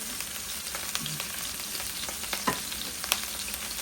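A burger patty fries in a hot pan with a steady, soft crackling sizzle and scattered sharper pops, close but fairly quiet, with no voices.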